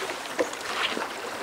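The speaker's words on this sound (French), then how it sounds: "d'autres préfèrent ramer et hisser la voile" Oars working a wooden boat on the Loire river, a soft splash and swish of water with faint knocks, close and brief against a steady outdoor wash.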